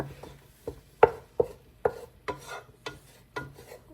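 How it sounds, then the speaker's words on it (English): A roux stirred in a pan with a wooden utensil, heard as a series of distinct knocks and scrapes at an uneven rhythm, close and fairly quiet, with no talk. "Give it a stir. This can burn really fast."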